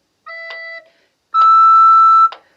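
A recorder plays a short low E, then, after a brief gap, a longer and higher note as the thumbnail half-holes the thumb hole. Both are clear, steady tones with soft tonguing at their starts.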